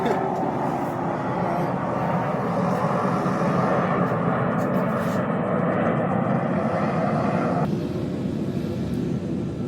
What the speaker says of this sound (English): I guess it's airplane day